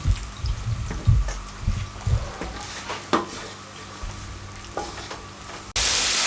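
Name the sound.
chicken frying in oil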